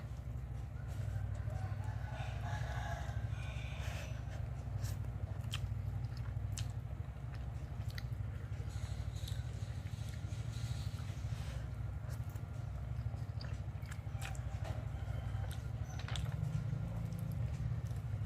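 Close, quiet chewing and biting while eating a quick meal of a dry-style dish, with soft crunchy clicks over a steady low background hum.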